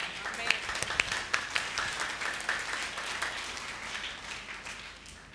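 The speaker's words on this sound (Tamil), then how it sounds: "கைத்தட்டு" A church service congregation breaks into applause, with sharp claps at the start that settle into a softer, fading patter over the room murmur.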